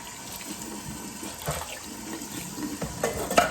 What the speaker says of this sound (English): So I'm just gonna put some water in here.